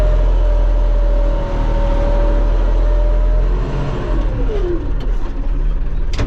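A Deutz tractor engine runs steadily in a corn field, a loud continuous low rumble with a droning tone that shifts pitch partway through, close and alone without talk.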